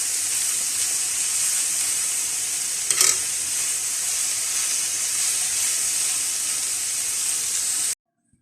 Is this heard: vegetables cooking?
yes